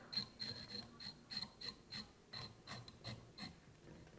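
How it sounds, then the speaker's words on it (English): A lollipop stick with Velcro brushes out the fibres of a Midas fly being tied, giving a series of quick, faint, close scratchy rasps in an uneven rhythm. "You want to brush all these fibres out and make it look straggly."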